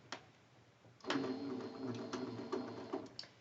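A sewing machine stitches a cotton quilt block along a drawn diagonal line: a soft whir at first, then a steady close mechanical run with light rhythmic ticks, fairly quiet and with no talking.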